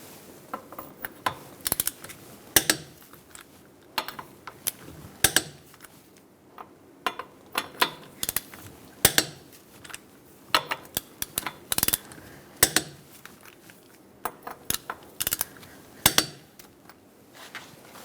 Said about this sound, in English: Using a 21mm socket, we're going to torque our lug nuts to 76 foot-pounds.